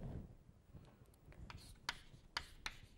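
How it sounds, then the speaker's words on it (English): Chalk or a marker writes on a board in a quiet room, with soft scratchy strokes and a few sharper taps near the end. "I write the following."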